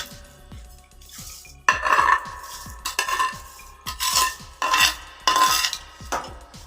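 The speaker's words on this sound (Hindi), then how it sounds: "चावल ऐड करने के बाद अभी इसमें अच्छे से मिक्स करूंगी।" Rice being stirred into boiling stock for mixed vegetable rice in a cooking pot, a spoon scraping and sloshing in repeated rhythmic strokes, close and fairly loud, with bubbling underneath and no speech.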